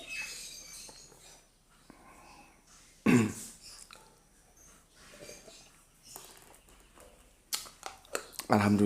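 A man coughs and clears his throat in a few rough bursts, spaced out among quieter moments and soft speech, with a louder cluster of coughs near the end.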